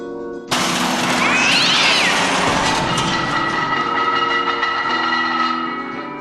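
A starving cat's drawn-out, wailing meow rises and bends over a dense, eerie rumbling backdrop, loud and sustained without talking.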